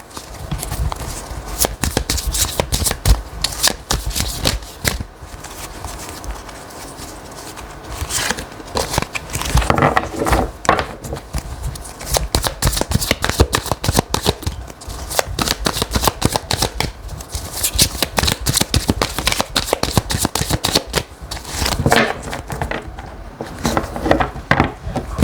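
A deck of tarot cards is shuffled at length, with dense, rapid riffling and papery flicks in repeated close bursts and a few short pauses between them.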